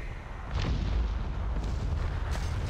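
Artillery fires on a machine gun position in the First World War battle game Cossacks: Back to War, with heavy booming shots landing one after another over a dense low rumble.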